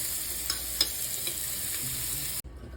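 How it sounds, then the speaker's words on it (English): Coconut oil steeped with sage, basil and lemon balm herbs, bubbling over low heat, a soft even sizzle with a few light pops and a stir, cutting off abruptly near the end. "I've had that coconut oil simmering over low heat for a while now with the herbs in it."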